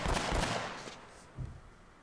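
Machine gun fire in Uncharted: Drake's Fortune, a loud rapid burst at the start that fades, then one dull thump shortly after.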